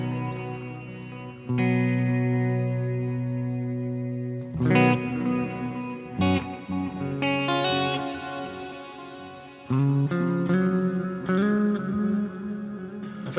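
Clean electric guitar notes and chords through a BOSS GT-1000 space echo patch with wow-and-flutter modulation, each phrase trailing off in wobbling, pitch-drifting repeats, played alone with no talking.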